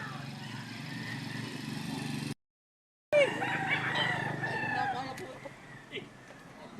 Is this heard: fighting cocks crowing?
yes